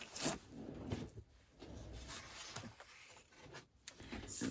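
Cardstock is scored with a scoring tool, giving soft close scraping and rubbing strokes with small taps and shuffling between them, quiet and intermittent.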